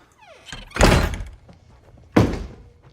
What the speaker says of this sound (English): Shut the front door.